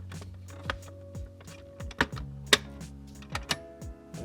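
A plastic interior light cover on a first-generation Nissan Xterra is pressed back into place, producing a handful of sharp, close clicks and taps spread over a few seconds against a faint hum.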